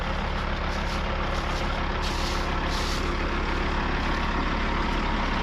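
A heavy logging truck's engine drones steadily nearby, a constant low rumble with a brief hiss of air brakes partway through.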